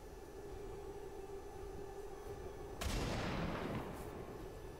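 A sniper shot in XCOM 2: War of the Chosen, heard as a sudden loud crack that drops into a long rumbling tail over a steady background hum.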